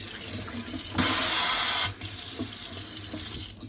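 A sink tap runs water in a steady, close hiss that jumps louder for about a second when the flow is opened fully, then settles back to a lighter trickle, with no talking.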